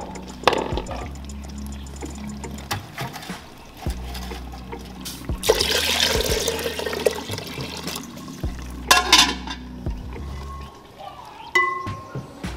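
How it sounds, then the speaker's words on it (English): Water poured into a cooking pot for rice balls at a Ghanaian home kitchen, a gushing pour in bursts with trickling splashes and clatter, close by, with a low background hum. "Then we'll put on water for the rice ball."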